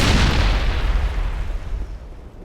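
Grenade blast in the Mass Effect video game, a single loud booming explosion that hits at once and then rumbles and decays over a couple of seconds, with no talk.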